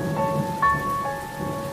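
Rain and thunder from a storm in a Bengali cartoon, a steady wash of rainfall with a low rumbling swell, heard alone with no talk, fairly loud throughout.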